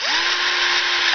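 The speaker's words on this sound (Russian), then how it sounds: "Вот шуруповерт," A cordless drill-driver spins at high speed to back a screw out of a facade panel, one loud continuous whir close by that winds up and then stops sharply after about a second.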